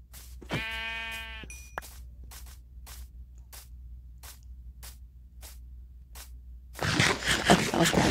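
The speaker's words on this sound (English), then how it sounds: "Alright, some more sheep." Sheep in the Minecraft video game bleat once in a short harmonic call near the start, over a low electronic hum, followed by a steady series of faint clicks and then a burst of loud broadband noise near the end.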